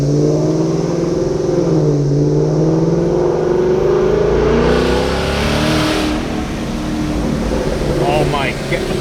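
A supercharged Ford Mustang with a Corsa Xtreme exhaust pulls away, its engine droning and rising steadily through the gears, loud and close from inside the car, then easing off near the end.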